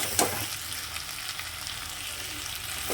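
Masala being sautéed in oil, kosha style, with the pan covered and stirred: a steady, moderate sizzle runs throughout with a couple of faint scraping touches, no voices.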